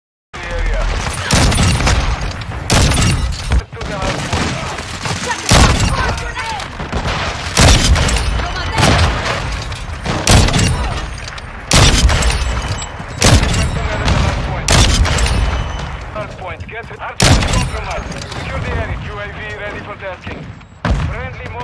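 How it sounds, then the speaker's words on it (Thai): Sniper rifle fire from the FJX Imperium in Warzone 2 on the cramped Shipment map, loud sharp shots cracking every second or two across the clip over a busy backdrop of other game gunfire and explosions. "เดี๋ยวเราไปดูแบบการยิงในเกมเลยดีกว่า"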